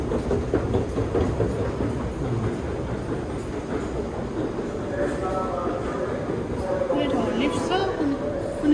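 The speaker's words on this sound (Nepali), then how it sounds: "हामी फेरि अर्को अन्डरग्राउन्ड ट्रेन लिँदै हो जमिन मुनि मुनि" A London Underground train runs with a steady rumble and rhythmic clatter of wheels on track throughout, loud and close, with passengers chattering underneath.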